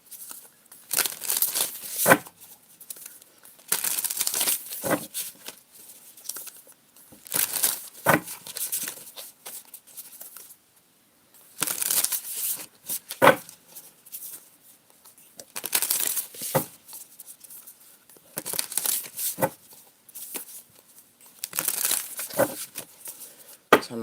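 Tarot cards being shuffled by hand in repeated bursts of crisp riffling and card slapping, close and fairly quiet, with short pauses between bursts and no talk.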